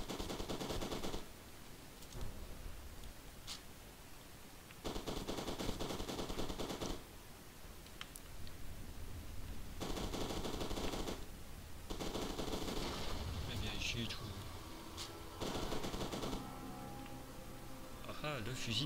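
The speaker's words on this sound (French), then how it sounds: "Fusil d'assaut." Assault rifle fire from the F.E.A.R. 2 video game erupts in several separate automatic bursts, each lasting a second or two, loud and close, spaced out by quieter gaps, with a voice talking over it at times.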